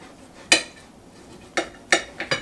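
A knife cuts a slab of pork for char siu into three pieces on a board, giving several sharp, close knocks: one early, then a quick irregular cluster toward the end.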